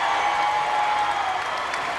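A basketball crowd at an NC State Wolfpack women's home game against North Carolina applauds a player entering the game, a steady dense wash of clapping heard throughout the short clip with no voices.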